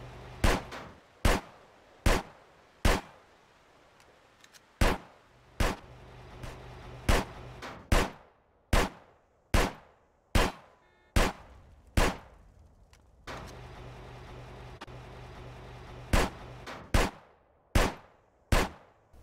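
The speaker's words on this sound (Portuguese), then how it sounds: "agora é só atirar mais até atingir o nível assassino de aluguel" Single gunshots fired one at a time in GTA San Andreas, about fifteen sharp loud cracks spaced roughly a second apart with short pauses, each decaying quickly over a quiet background.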